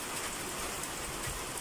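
Heavy rain pours steadily on a night of New Year's celebrations, a dense continuous hiss with low rumbling underneath, even and unbroken throughout with no voices.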